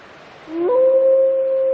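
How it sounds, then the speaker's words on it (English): A female black wolf lets out a single rising howl that quickly settles into a long, clear, sustained tone, loud and close against a quiet background. "Her howls identify her as an available female."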